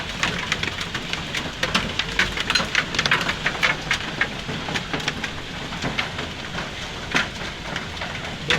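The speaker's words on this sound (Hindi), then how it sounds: "तूफ़ानी बारिश हो रही है दोस्तों" Heavy stormy rain pours down in a street during a sudden storm with hail, a dense steady hiss with sharp spattering drops and impacts throughout, loud and close, no voices.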